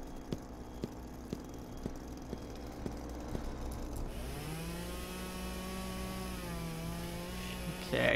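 A chainsaw in the video game Flashing Lights drones steadily, then its engine pitch sweeps up and down as it works, ending in a brief loud burst.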